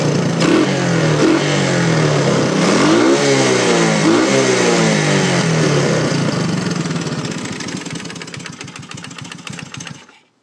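Three-wheeler ATC engine running loud and close, revving with rising and falling pitch sweeps, then sputtering and dying away to silence as fuel starves near the end.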